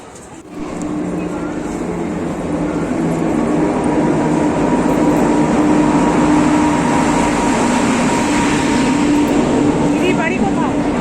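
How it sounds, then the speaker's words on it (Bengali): A train pulls into a station platform with a loud, steady rumble that swells after a brief quiet start and holds for the rest of the stretch, with voices faintly underneath. "আমার ট্রেন ঢুকে গেছে"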